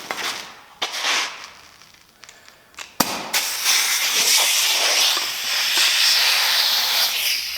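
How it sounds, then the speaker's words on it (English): An air hose nozzle blows into a tire to seat the bead: a few short hisses and a sharp pop give way to a loud, sustained rush of escaping air. "So we're just going to go ahead and put on the air nozzle."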